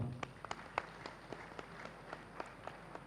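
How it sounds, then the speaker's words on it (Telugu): A small outdoor gathering at a concrete pyramid meditation site claps faintly, with scattered, uneven hand claps heard far off against a quiet background. "దీనికి ఒకసారి గట్టిగా చప్పట్లు కొడదాం"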